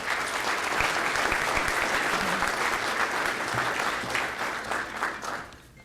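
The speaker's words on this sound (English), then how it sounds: "Please give a big round of applause and welcome Councilor Stacey" An audience at a housing summit applauds to welcome a councilor to the stage: sustained, dense clapping from a sizable crowd, steady and close, fading slightly toward the end.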